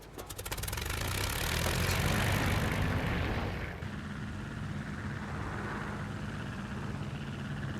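A propeller plane in the video game Crimson Skies: High Road to Revenge on Xbox drones loudly with a broad engine roar that swells and then settles to a steady, slightly quieter hum.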